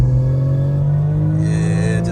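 A 2024 BMW M4 Competition (G82) accelerating hard, a steady, loud engine drone heard from inside the cabin, rising slightly in pitch toward the end.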